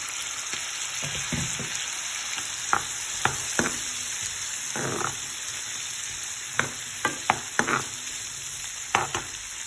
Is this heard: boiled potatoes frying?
yes